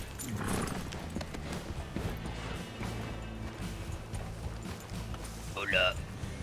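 Horse hooves clip-clop in the video game Red Dead Redemption, a steady run of moderately close hoofbeats over a low game ambience with a brief whinny near the end.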